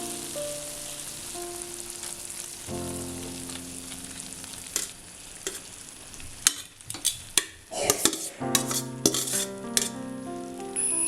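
Cooked rice tipped into a pan of chicken for Zurbian rice, a low sizzle first, then spoon scraping and clattering against the pan in quick irregular strokes while mixing, close and unaccompanied by speech.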